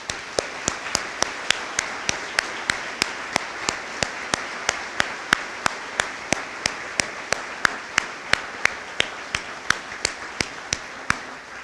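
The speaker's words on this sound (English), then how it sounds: "Let's give them all a round of applause." At a public safety awards ceremony, an audience applauds award recipients with steady, moderately distant clapping, a few sharper individual claps standing out at a regular rhythm throughout.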